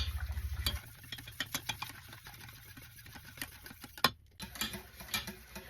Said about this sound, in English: you want to let this cook for about 5 minutes, stirring constantly, until the mixture starts to thicken